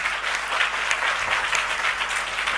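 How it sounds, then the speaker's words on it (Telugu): A church congregation applauding loudly and steadily, dense clapping from a large crowd filling the whole stretch without a break. "అట్టి స్త్రీలకు ఒకసారి గట్టిగా చప్పట్లు కొట్టారు."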